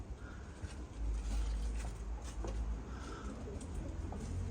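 Three-year-old pet birds, two females and a male, give soft intermittent coos and calls, faint and distant under a low steady hum with no talking.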